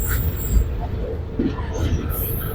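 A train rumbles along steadily through a forest in the rain with low, continuous rolling noise and faint rattles, heard from inside or close by.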